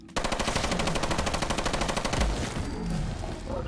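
A fully automatic assault rifle fires a long, fast, evenly spaced burst in Fallout 4 at a Deathclaw. The shots are loud and close, then stop abruptly and leave a fading echo with battle noise behind it.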